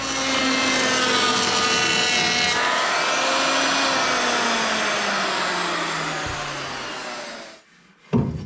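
A power saw whines steadily as it cuts through wood, then its pitch drops as it winds down and stops with a short clunk.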